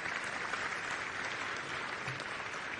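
Steady applause from an audience at an award ceremony as prize winners are honoured, a dense continuous patter of many hands that holds at an even level throughout without any voices.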